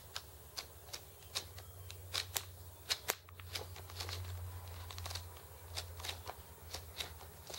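Sheets of a 50-sheet patterned paper pad flipped one after another, giving a quick run of light, crisp paper riffles and flicks close by, with a low steady hum underneath.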